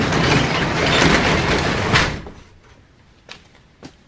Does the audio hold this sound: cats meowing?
no